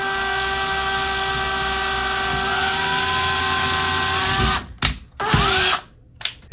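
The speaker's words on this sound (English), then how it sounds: "And we will continue and drill the lower hole." A power drill bores a hole into a bathroom wall above a tub, a steady high motor whine that runs for several seconds, then stops and restarts in short bursts near the end, close by and alone.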